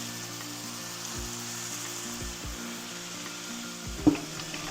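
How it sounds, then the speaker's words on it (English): Chicken breast searing in a pot, a steady close hiss of frying fat with occasional small pops and one louder clatter near the end. "So the breast is in the pot and it's now being seared."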